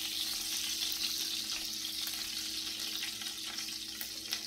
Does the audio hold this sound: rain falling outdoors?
no